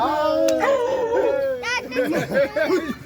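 A dog gives loud, drawn-out yelping barks and howls up close while people talk over it.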